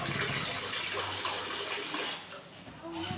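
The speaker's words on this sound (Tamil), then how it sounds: "அதனால் உருளைக்கு நான் சுத்த தண்ணி, ஃபில்டர் தண்ணி தான் நான் போடுவேன்." Filtered water poured into an urli bowl, a steady close splashing and gushing stream lasting the full stretch at moderate loudness.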